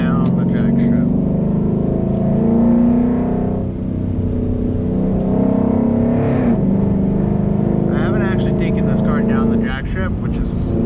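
A drag-build car in a racing video game drives toward the track, its engine holding a steady, loud drone with slight swells in pitch across the whole stretch.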